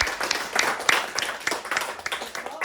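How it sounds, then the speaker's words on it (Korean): A small gathering of villagers at a community planning workshop claps together, a sparse patter of individual hand claps in an indoor room, moderately loud and uneven, without speech over it. "이렇게 모이신 분들에게 한번 박수"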